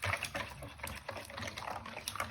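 Sugar and yeast are stirred by hand into a liquid for a semolina batter, giving faint, continuous sloshing and swirling close by, with no one talking.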